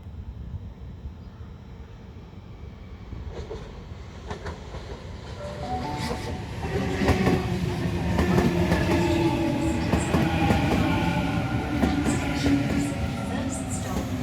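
A Sydney train running on rails, rumbling at a distance at first, then growing louder and closer with rhythmic clicking of wheels and a few tonal squeals from the wheels or brakes.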